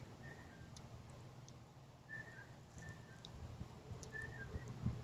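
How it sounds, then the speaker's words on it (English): An unidentified bird whistles faintly in short, clear, repeated notes, a few separate chirping whistles spread across the span over a low steady outdoor rumble. "I still don't know what kind of bird makes that whistling noise."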